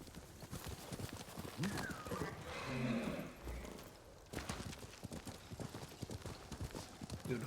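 A horse in the Ghost of Tsushima video game gallops with rhythmic hoofbeats and lets out a clear neigh midway, fairly close and quiet overall, amid game ambience.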